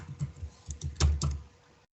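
Light clicking of keys on a computer keyboard, a short burst of irregular taps at close range, fairly quiet, no voices.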